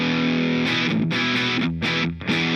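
An electric guitar played through a warm distortion pedal rings out in sustained, saturated chords, loud and close, with a couple of chord changes and short gaps between strums.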